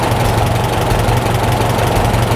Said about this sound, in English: Once your tractor is running, you can make some adjustments to the idle.